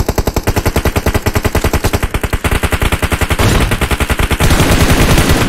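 Sustained automatic gunfire in a battle royale video game, loud rapid bursts with a brief shift in weapon tone midway, while a player speaks briefly over the shots.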